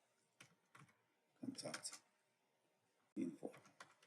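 Typing a search query on a computer keyboard, with short bursts of key clicks separated by pauses, close and clear with a voice talking over parts of it.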